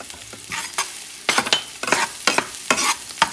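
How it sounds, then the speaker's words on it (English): Ground beef with dry oregano stirred and fried in a pan for Puerto Rican rice, sharp close scraping strokes in quick irregular bursts over a soft sizzle. "I'm caramelizing things here, okay?"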